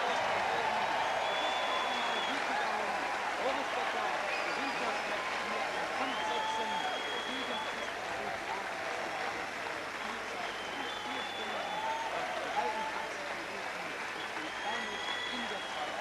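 A crowd at a 1992 Olympic tennis match, German fans among them, breaks into loud, sustained applause that fills the whole stretch, with a murmur of cheering voices mixed in.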